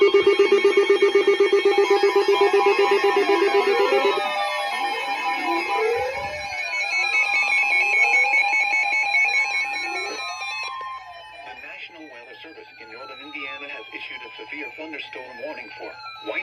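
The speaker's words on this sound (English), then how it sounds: "this station will broadcast severe weather alarm tones" NOAA weather radio station KJY62 sounds severe weather alarm tones: a loud steady electronic tone, then a shift to warbling, sweeping tones, with a broadcast voice and crackly reception running alongside.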